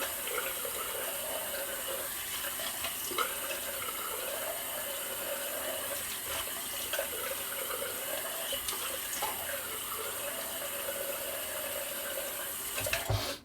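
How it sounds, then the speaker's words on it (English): A bathroom tap runs steadily for a final rinse after a wet shave, a continuous close hiss of flowing water into the sink that stops abruptly at the end. "I'll do a final rinse and we'll see."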